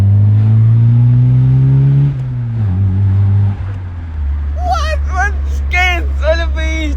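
A car engine recently reprogrammed with a Speeduino ECU revs up and then drops back, its pitch rising and falling before settling into a steady idle. Excited voices shout over the running engine near the end.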